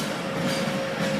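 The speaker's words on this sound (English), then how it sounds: "That's the Burlington North Santa Fe train. This is our first freight train of the night." A BNSF freight train passes at night in Muncie, giving a steady loud rumble with a sustained tonal hum and a faint rhythmic clatter of wheels, with no voices.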